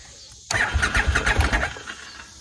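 A cheap used four-wheeler's engine cranks and fires after a brief pause, sputtering roughly into a loud, uneven idle with rhythmic chugs, then settles slightly.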